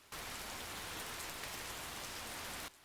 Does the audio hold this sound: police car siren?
no